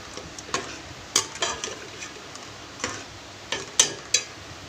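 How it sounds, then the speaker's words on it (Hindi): A spoon stirs lauki chana dal with masala in a pan, giving soft scraping strokes and a few sharp metallic taps, close and moderately loud with no talking. "अच्छी तरह से मिक्स कर लेंगे।"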